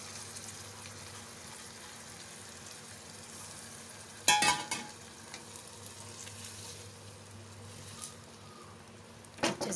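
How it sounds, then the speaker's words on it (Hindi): Soaked rice roasts in a pan for a vegetarian dinner, with a low, steady sizzle throughout and a few louder scraping clatters from stirring, one near the middle and one at the end. "इसको अच्छे से भुनेंगे। इसमें डाल देंगे हमारे चावल, जो हमने एक कटोरी भिगा के रखे।"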